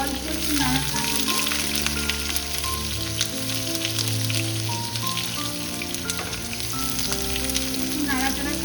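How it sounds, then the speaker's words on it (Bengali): Onions hit hot oil for mushroom posto, setting off a loud, crackling sizzle that carries on steadily close by, with light stirring clatter and faint tonal background sounds. "তেল গরম হয়ে গেছে, এবারে আমি তেলের মধ্যে পেঁয়াজগুলো দিয়ে দিচ্ছি।"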